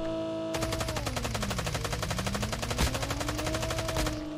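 Sustained machine gun fire in Call of Duty Mobile, a loud, steady stream of rapid shots lasting several seconds, then cutting off abruptly, with game engine tones droning underneath.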